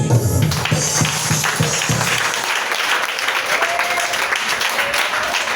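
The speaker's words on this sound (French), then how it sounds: "Est-ce qu'on peut acclamer Jésus?" A church congregation claps and cheers for Jesus, a loud, sustained wash of applause that fills the room and fades slightly toward the end, with some voices mixed in.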